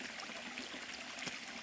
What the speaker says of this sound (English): we have a stream that we literally crossed the trail